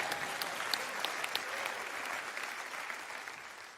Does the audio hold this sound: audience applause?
yes